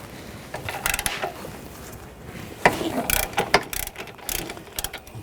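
A ratchet with an 18mm socket loosens valve cover bolts on a 2014-2020 Nissan Rogue 2.5L, giving short bursts of quick metallic clicking, close and sharp, separated by brief pauses.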